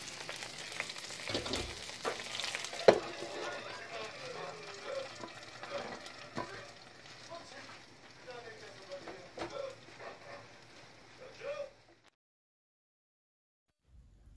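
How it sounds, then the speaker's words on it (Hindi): A tadka of hot spices in oil sizzles as it is poured over curd rice, crackling and frying steadily for about twelve seconds with a voice faintly underneath, then cutting off into near silence. "बस यहाँ पर ध्यान रखने की बात है कि जैसे ही तड़का आप डालेंगे तो आप उसको अच्छे से बंद कर देंगे"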